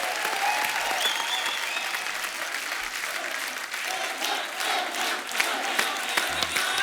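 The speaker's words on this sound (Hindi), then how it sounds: "जोरदार तालियां सलमान भाई के लिए।" Studio audience at a comedy talk show bursting into loud, sustained applause for Salman, dense clapping and some cheering held steadily throughout.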